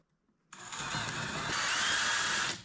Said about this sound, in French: J'ai fait le trou pour la cheville mollie.